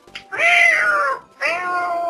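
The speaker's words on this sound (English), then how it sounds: "Meow." Cat meows from the video game Kirby's Dream Land 3: two drawn-out, wavering meows, the first longer, separated by a short gap, loud and clear with no talking.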